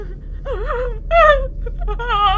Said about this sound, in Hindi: वो किसी लड़की के रोने की आवाज़ थी।